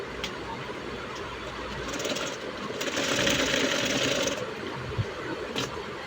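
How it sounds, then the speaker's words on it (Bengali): A sewing machine stitches closed the open side of a frilled baby frock, a close, steady mechanical whir that swells louder in the middle and eases off again. "এখন এর যে আরও একটি পাশ রয়েছে সেই পাশের খোলা সাইডটিও কিন্তু আমি সেলাই করে বন্ধ করে দিচ্ছি"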